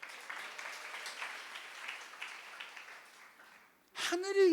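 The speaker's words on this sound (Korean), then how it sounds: "우리 박수 한번 쳐주세요." A church congregation applauds in a sustained wash of clapping that slowly fades out, and a voice begins speaking right after it ends.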